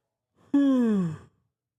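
A single yawn from one person, a drawn-out breathy vocal sound that slides downward in pitch, about three-quarters of a second long, close and fairly loud, with no talk around it.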